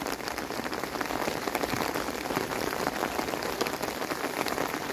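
Pouring rain falls steadily on surfaces outdoors. The patter is dense and continuous, loud and close, unbroken for the whole stretch, and no voices are heard.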